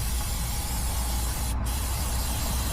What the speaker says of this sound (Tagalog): So spray lang natin ito ng brake cleaner